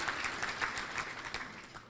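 A crowd applauds steadily, a dense wash of many hands clapping at once throughout.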